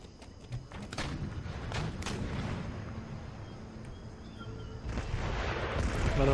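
Artillery firing in the strategy video game Empire: Total War, a run of dull booming thumps and distant gunfire over a rumbling battle background, with someone talking over it.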